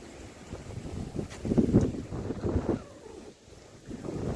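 Wind buffets the microphone outdoors at a lookout near the Fairmont hotel in Doha and Lusail, with low rumbling gusts, swelling louder in the middle and again at the end, with no voices.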